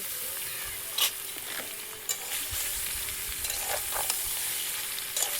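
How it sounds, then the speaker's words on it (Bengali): Salted soybean chunks fry in oil in a pan, with a soft, continuous sizzle beneath several sharp scrapes and taps of a spatle stirring against the pan. "আমি এর মধ্যেই ভেজে নেব সয়াবিনটা নুন দিয়ে মেখে রেখেছিলাম"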